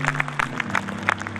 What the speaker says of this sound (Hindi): इनके लिए जरा जोरदार तालियां